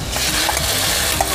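Minced garlic cooking in a pan for a chicken noodle dish, with a steady sizzle and a few scraping stirs running continuously at close range, no voices.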